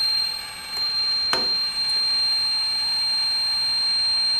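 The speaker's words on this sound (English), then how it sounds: "The leak sensor beeps, the second beep, it shuts off the valve and sets the alarm." Bulldog-JW water leak sensor alarm sounding a steady high-pitched electronic tone with a couple of short clicks, loud and close, no voices.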